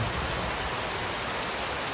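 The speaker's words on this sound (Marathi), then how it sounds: "पण मग तरी पाऊस येतोय." Steady rain falls over a village with a dense, even hiss and no breaks, constant and fairly close, with no voices.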